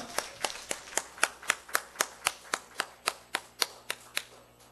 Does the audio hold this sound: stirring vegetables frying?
no